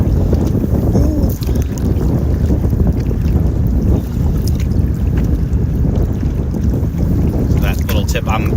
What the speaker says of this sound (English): Oh, that's windy.